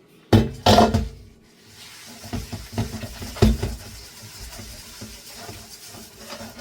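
A steel pot being scrubbed with sugar and no paste, with close, loud clanks of the pot at the start, then scraping, rubbing and light watery patter continuing with no talking.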